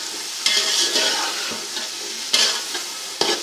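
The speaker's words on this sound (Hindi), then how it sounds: "और भून लेंगे इसको।" Boiled chickpeas fry in cooked spice masala for chana pulao, a steady close sizzle broken by several louder scraping stirs of the pan, with no voices.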